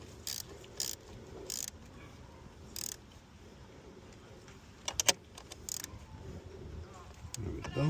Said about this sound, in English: Get the 10 millimeter, and we're going to snug it down.